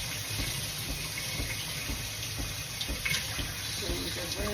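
Tap water running and splashing as parts of a Ninja Luxe espresso machine are rinsed in a sink, a brief steady gush with small clatters near the microphone.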